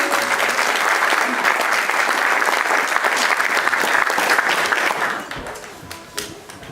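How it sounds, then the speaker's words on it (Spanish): A church congregation applauds loudly and steadily, then the clapping thins and fades out over the last couple of seconds. "Denle un aplauso a Cristo si están aquí"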